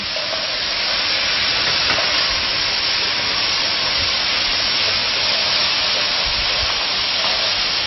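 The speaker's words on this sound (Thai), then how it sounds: "เราก็จะเอาเครื่องปรุงหมดใส่ลงไป อ่าผัด" Chicken and cashew nuts sizzle as they are stir-fried with seasonings in a hot pan. The hiss is loud and steady from start to finish, with faint stirring scrapes and no talking.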